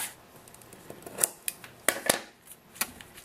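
Scissors snip the ends off a ribbon on a handmade sympathy card, a handful of sharp, close, quiet cutting snaps spaced irregularly over a hushed background.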